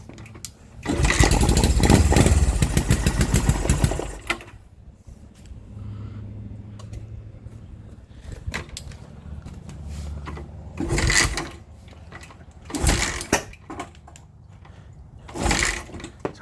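A 1974 Honda CB360 motorcycle engine being cold started on choke: a loud cranking burst catches briefly then dies, followed by quieter idle-like rumbling and several short cranking attempts.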